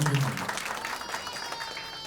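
An audience at a stage event for a film launch breaks into applause that starts loud and thins into scattered clapping across the short stretch.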